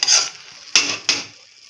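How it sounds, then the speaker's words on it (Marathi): A spoon gently mixing salt into a mutton liver masala fry in a pan: three short scraping strokes, close and fairly loud, with a faint sizzle underneath. "चवीपुरतं मीठ टाकून हलक्या हाताने असं मिक्स करून"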